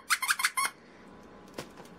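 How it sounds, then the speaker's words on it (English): A Nightmare Before Christmas print squeaky dog toy squeaks in a quick burst of four or five sharp squeaks, close and clear, then one faint squeak after a pause of near silence. "There is a squeaker in there, I promise."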